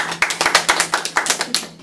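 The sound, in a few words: audience clapping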